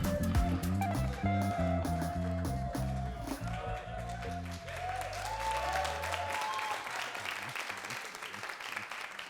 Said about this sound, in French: Est-ce qu'on peut l'applaudir bien plus fort?